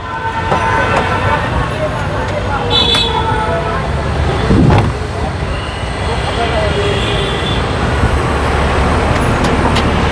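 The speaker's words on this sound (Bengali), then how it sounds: "এই যে ইঞ্জিন চলতেছে একদম স্মুথ সাউন্ড" A used black Nissan Dualis idles steadily with a smooth, continuous engine hum, close and fairly loud, with road traffic and a brief horn-like tone mixed in.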